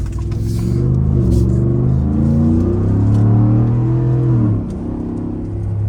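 A Ford F150 truck's 5.0 engine accelerates hard through morning traffic, a loud, deep, steady rumble that rises in pitch, levels off, then drops as the throttle eases near the end.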